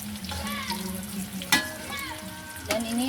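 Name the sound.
sausage bread frying in oil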